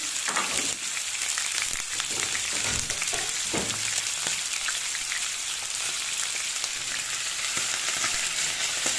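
Loud, dense sizzling and spattering of kidneys frying in hot oil, continuous and close, with occasional stirring scrapes.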